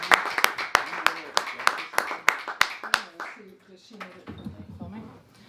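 At a Peace House gathering to welcome a reverend, a small audience claps in steady, close, rhythmic applause that fades out, and then a person starts speaking.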